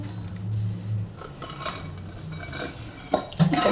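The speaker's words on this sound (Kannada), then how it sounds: "ಚೆನ್ನಾಗಿ ಫ್ರೈ ಆಗಿದ್ದನ್ನು ಬೇರೆ ಪಾತ್ರೆಗೆ ಹಾಕ್ಕೊತಾ ಇದ್ದೀನಿ ನಾನು" Roasted semolina is moved into another pot with a metal spoon, producing scattered scrapes, clinks and knocks of metal cookware, with louder clatter at the end.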